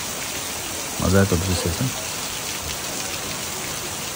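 Light rain drizzles in the mountains at Lwang village, Kaski, Nepal, a constant soft patter throughout, with a person briefly speaking over it near the start.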